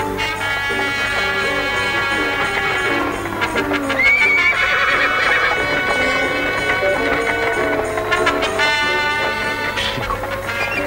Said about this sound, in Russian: Послушай, Клим, ты зачем так гонишь лошадь?